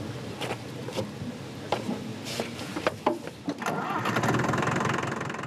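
An old farm tractor at least 40 years old starts up: a few rough cranking bursts and knocks, then the engine catches and settles into a loud, steady idle nearby.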